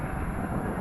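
An Amtrak passenger train passes in Depew Village near Buffalo, New York, a loud, steady low rumble filling the brief moment.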